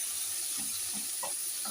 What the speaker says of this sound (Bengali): কচুরি লতিটা দিয়ে এবার আমি হালকা একটু নেড়ে নেব